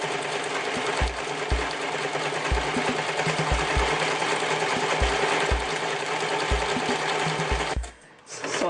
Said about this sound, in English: you're going to sew a zigzag over